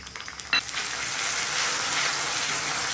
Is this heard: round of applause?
no